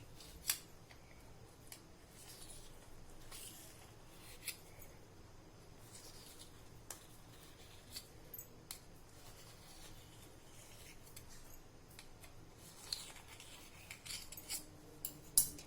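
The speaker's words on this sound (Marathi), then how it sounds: "हे बघा, अशी आपण आता हे चमच्याने अशी इथून काढून घ्यायची" A spoon scrapes steamed pea-and-semolina idli off a steamer plate, making faint, scattered metallic scrapes and light clinks close by, with a few sharper ticks near the end.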